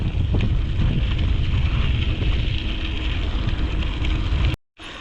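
Cold wind gusts steadily past the microphone along an outdoor riverfront trail in Moncton, New Brunswick, a loud continuous rumbling roar that cuts out briefly near the end.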